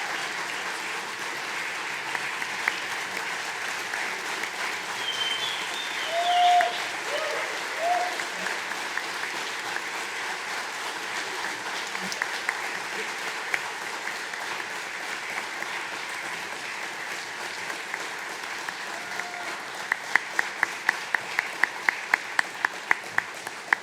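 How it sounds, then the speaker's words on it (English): At a pawpaw press conference, a crowd gives a round of applause for Dr. Pomper, a soft, diffuse clapping wash heard over a long stretch with a few louder swells, ending with a run of distinct, close single claps. "I want to just ask one more time for another round of applause for Dr."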